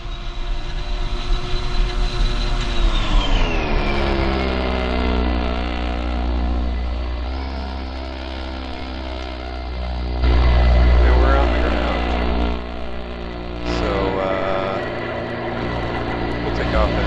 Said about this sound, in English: And then thrust reversers.